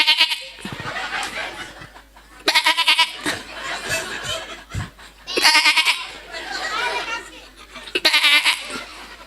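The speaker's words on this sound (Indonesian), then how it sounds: "Kambing." A goat bleats loudly and repeatedly, four wavering, nasal cries spaced a couple of seconds apart, close to the mic, with people talking and laughing in between.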